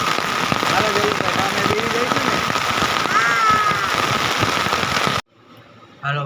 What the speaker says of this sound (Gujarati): તો અત્યારે મેં તમને બતાવ્યો અમારે અહીં વરસાદ